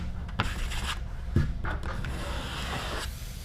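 Soft scraping and rubbing sounds come from joint compound being spread and scraped over wooden slats to imitate plaster, a few irregular strokes, close and quiet.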